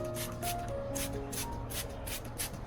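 Orchid leaves and roots misted by hand, with about eight short hissing spray bursts in a steady rhythm, close and fairly soft, with no talking.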